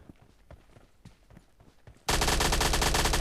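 Gunfire in the mobile shooter PUBG Mobile Lite: a couple of seconds of faint scattered shots and thumps, then a sudden, very loud stretch of rapid automatic fire at close range that carries on to the end.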